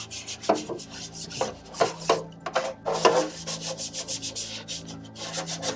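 An old brush scrubs baked-on grease from an air fryer, giving steady rhythmic bristle rubbing in quick back-and-forth strokes, close and moderately loud, with no voices.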